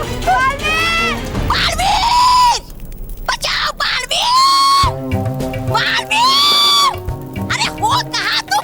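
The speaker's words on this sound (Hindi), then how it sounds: "चिल्लाओ और चिल्लाओ, है नहीं आने वाला तुम्हारा चहेता वो बालवीर" Several people scream loudly and repeatedly in a Hindi superhero TV drama, high shrill cries coming in bursts with short gaps and background babble between them.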